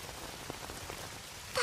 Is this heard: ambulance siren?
no